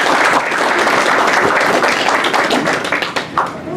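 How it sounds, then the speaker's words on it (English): Audience clapping at a city council meeting after a student essay award is announced, a dense steady patter of many hands that holds loud, then thins into scattered separate claps near the end. "clap."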